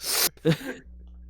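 A single sharp sneeze bursts out close to the microphone during a casual sports podcast chat, followed by a brief breathy vocal sound and then quiet.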